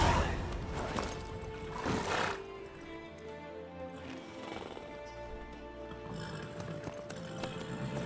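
Horse hooves clip-clop steadily at a walking pace in The Witcher 3, a moderate rhythmic patter over a faint game ambience, with no talk over it.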